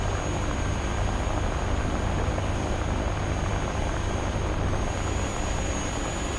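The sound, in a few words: FR-1 Fireball aircraft engine in War Thunder video game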